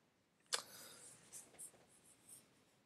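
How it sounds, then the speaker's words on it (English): A pen or marker writes large, quick marks on a math workbook page, a sharp initial stroke followed by several lighter scratchy strokes, close and quiet. "I'm going to write real big"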